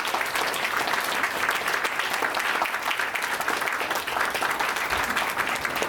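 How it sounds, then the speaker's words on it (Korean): Audience applause at an alumni association president's inauguration ceremony, a dense, steady clapping from a full room that holds even for about six seconds with no voices on top. "여러분 박수 부탁드립니다."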